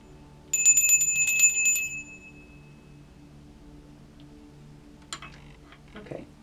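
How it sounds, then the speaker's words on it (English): A small bell is struck once in a quiet room, giving a bright, ringing tone that fades over about a second and a half. Faint taps and soft handling noises follow later. "I did try to ring the bell again."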